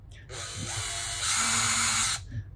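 A cordless drill with a 1/16 inch bit, set to second gear, bores holes for about two seconds with a steady high whine that steps up partway through, loud and close.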